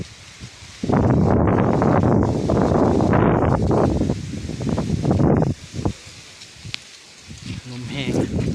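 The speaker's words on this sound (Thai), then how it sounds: "ลมแห้งอีหลี" Dry wind gusts outdoors at a site for trapping crested bulbuls with a decoy cage, buffeting the microphone with a loud rushing rustle for several seconds, then easing, with faint voices toward the end.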